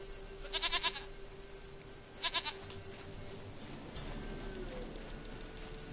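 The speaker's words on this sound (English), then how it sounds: "Goat of mine, dearest," A goat in The Witcher video game bleats in two short bursts, a quavering cry near the start and another a couple of seconds later, over a soft rainy ambient bed.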